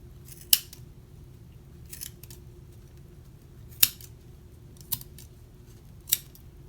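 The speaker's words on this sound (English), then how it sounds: "take your scissors and cut that knot off, the top part, and then you are going to carefully go in and cut all the little loops" Scissors snip through small loops of yarn in a back-to-school craft, cutting them apart. Five sharp, close snips fall at an irregular pace, a few seconds apart, over a low steady background hum, with no talking.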